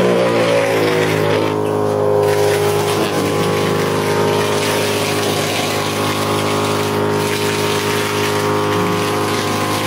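Compressor-type foam pump on a coin-operated carwash vending machine forces car shampoo through a hose, making a loud, steady whirring hum and hiss that runs unbroken throughout.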